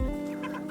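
Chickens on a family farm cluck in a short, steady burst of overlapping calls, fairly close with a constant background hum and no voices.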